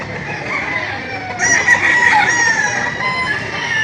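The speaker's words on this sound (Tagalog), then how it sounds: "Yan ho ang Brahma na manok." A large Brahma rooster crows at a crowded poultry auction market, the long call rising loud and close from about halfway through over a steady backdrop of birds and crowd noise.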